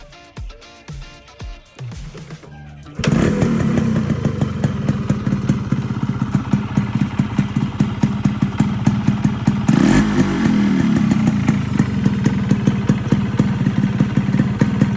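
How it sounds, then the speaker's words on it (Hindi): A Japanese-made Yamaha RX-100 two-stroke motorcycle fitted with an Indonesian silencer starts after a few kicks and settles into a loud, close idle with a rapid, uneven popping exhaust beat and a brief blip of throttle. "चलिए इसका एग्जॉस्ट नोट भी सुना देता हूँ मैं।"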